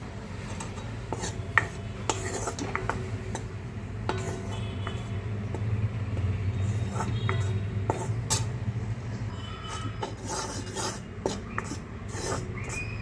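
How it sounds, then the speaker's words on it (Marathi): A spoon scraping and tapping in a pan as dry gram flour (besan) is stirred and roasted for homemade ladoo, giving a steady soft rubbing with scattered light clinks over a low kitchen hum. "छान परतून ढवळून घेते"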